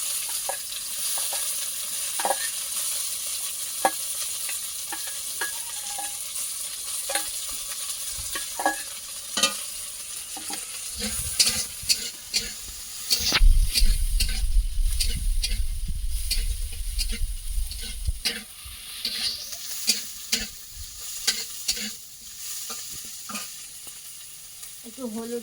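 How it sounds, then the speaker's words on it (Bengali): Raw prawns sizzle and fry in hot oil in a home kitchen, a continuous close crackling hiss with scattered pops and stirring clicks, and a low rumble swelling midway. "আর এর মধ্যে যে কাঁচা চিংড়ি মাছগুলো ছিল একবারে তেলে আমি দিয়ে দেবো"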